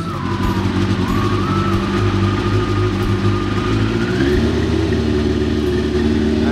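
A 1995 Yamaha YZF 750R motorcycle engine idles steadily just after starting on full choke, a loud, close, continuous drone with a rising whine partway through and no talking.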